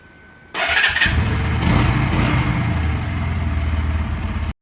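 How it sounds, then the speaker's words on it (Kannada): Vehicle engine cranking and catching after a quiet start, then settling into a loud, steady running idle close by, ending abruptly. "ಗಾಡಿ ಸೌಂಡ್ ಹೆಂಗೈತಿ ನೋಡ್ರಿ"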